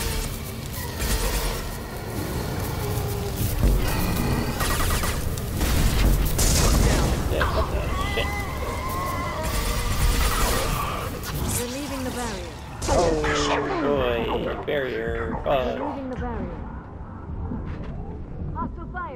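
Combat in Mass Effect 2 with dense gunfire bursts and booming explosions running nearly throughout, loud and chaotic, with in-game voices calling out over the action.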